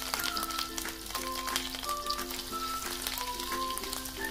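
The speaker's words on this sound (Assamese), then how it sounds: "কেৰাহীখন পাতি তেল গৰম কৰি লৈছো আৰু এতিয়া এদৰে অলপ অলপকৈ চামুচেৰে দি গৈছো" Spoonfuls of fish roe pakora batter frying in hot oil in a kadai over a medium flame, giving a continuous close, loud bubbling sizzle with no talking.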